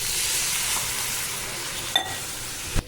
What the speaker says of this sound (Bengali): দেখো এবার দেবো জল।